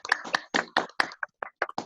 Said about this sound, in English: everybody unmute your phones and give a big applause to the group.